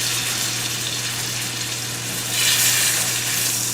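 Lamb chops frying in garlic butter in a pan: a steady, close, loud sizzle that swells a little toward the end, with a low hum underneath.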